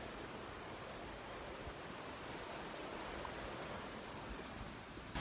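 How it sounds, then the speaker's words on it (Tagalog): Strong surf crashes against the edge of a beach in Linao, a dense steady roar of breaking waves that fills the whole stretch without a pause and with no voices. "Ang lakas ng alon oh. Ayun, humahampas sa gilid."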